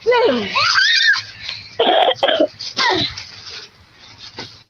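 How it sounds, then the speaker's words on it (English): A woman coughs in several harsh bursts mixed with laughter-like sounds, close by, with a voice talking at the start. "Poor baby, she was coughing."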